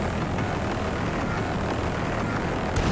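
Jet aircraft roaring overhead in GTA Online as a steady, loud broadband rush that holds through the whole moment, with a brief change near the end.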